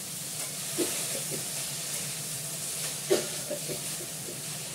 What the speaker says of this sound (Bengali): দুটো শুকনো লঙ্কা ভেজে তুলে দিলাম